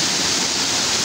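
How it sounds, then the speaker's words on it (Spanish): El Barro waterfall in Yuscarán, Honduras, roughly 80 metres high, roars in a steady, loud, close wash of falling water with no break. "a la imponente cascada del barro de Vizcarán. Una altura de unos 80 metros."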